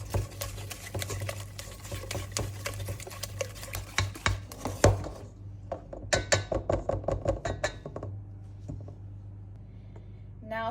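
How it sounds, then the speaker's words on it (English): A hand whisk clinks and taps rhythmically against a bowl as eggs, sugar and vanilla are beaten together, faint and close, with brief pauses between bursts. "Going to hand whisk these really well until combined,"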